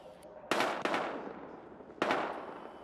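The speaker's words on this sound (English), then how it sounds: "We've got gunshots." Gunfire in the Battlefield Hardline police video game: three sharp, loud shots, the first two close together and the third after a short pause, each trailing a brief echo.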